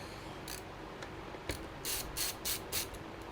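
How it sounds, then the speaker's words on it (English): Screws are backed out of a gaming PC case beside a circuit board, giving faint, close ratcheting clicks and short scraping bursts that cluster in quick runs over a quiet room. "So to open this up, we just need to remove the screws from this side, where there's a PCB"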